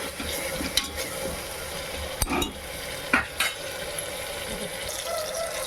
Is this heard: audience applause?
no